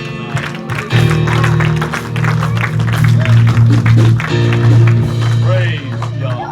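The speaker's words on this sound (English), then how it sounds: "I wonder if we could give this crew up here a good hand clap here tonight." A church congregation at a Christmas Eve service claps for the crew, a dense, sustained round of applause with a low musical drone underneath and some shouts.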